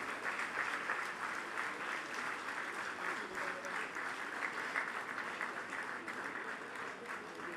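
Sustained applause from a convocation ceremony audience, a dense, even wash of many hands clapping at moderate distance, holding steady without pause.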